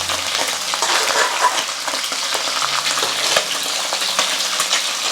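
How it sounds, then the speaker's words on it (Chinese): An iron spatula scrapes and clatters steadily against a wok while sea bass fries in hot oil, with a continuous loud sizzle close by. "炒菜呢一定要用铁铲， 夸夸夸的这个声音听起来是很爽的。"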